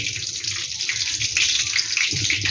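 Black cumin seeds dropped into hot oil for tempering, a loud, continuous bright hiss and sizzle close by, steady throughout with no talking.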